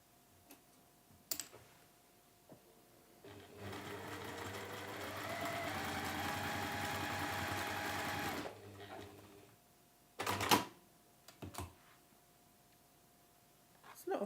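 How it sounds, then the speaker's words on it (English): A sewing machine stitches strips of a schoolhouse tile quilt block in one continuous whirring run of about five seconds, framed by quiet clicks and handling noises, with a voice speaking softly before and after. "we're just going to sew those either side."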